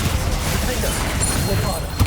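Confringo fire spell blasts in Hogwarts Legacy, a dense rumbling explosion over a continuous low roar of battle noise, ending in a sharper burst near the close.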